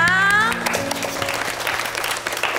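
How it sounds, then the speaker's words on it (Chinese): An audience at an award presentation breaks into warm applause, a dense burst of clapping that stays loud and steady after a brief musical tone fades at the start. "我们用最热烈的掌声，恭喜李宗龙得到我们的最佳媳妇奖。"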